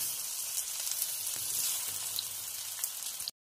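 Pakoras fry in hot oil in a wok, giving a steady bright sizzle with small crackling pops throughout, cutting off abruptly at the end.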